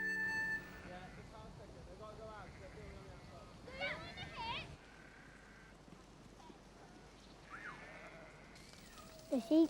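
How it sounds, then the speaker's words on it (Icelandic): A flock of sheep bleats as working dogs herd it off a meadow and along a path, several nearby calls rising and falling over a few seconds under a narrator's voice in a children's cartoon. "Kindurnar geta verið fljótar að hlaupa."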